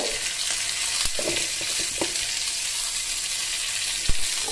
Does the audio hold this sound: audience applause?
no